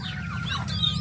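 Young chicks and chickens cluck and peep close by, with short high chirps over a low steady background murmur.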